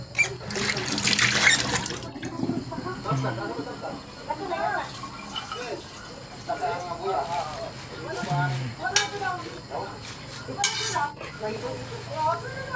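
Running tap water splashing into a kitchen sink while dropped food is rinsed, with occasional clinks of dishes and utensils, steady throughout under someone talking.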